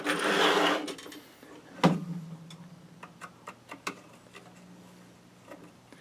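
A screw is driven in by hand to fit a guitar strap lock into a loose hole, with a burst of rustle and then a series of sharp, evenly spaced clicks and ticks, close and moderately loud.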